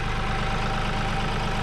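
Kioti CK3510SE compact tractor diesel engine idling close by, a steady, even, low rhythmic chug with no voices.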